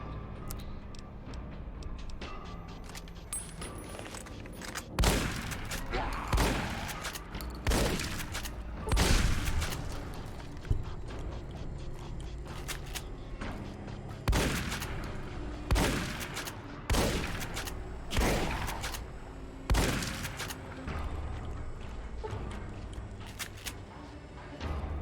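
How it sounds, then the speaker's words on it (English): Shotgun blasts in Fallout: New Vegas, a string of sharp, loud reports spaced a second or two apart over a quiet game background, with faint ticking and clicks between shots. "I'm just gonna shotgun these losers."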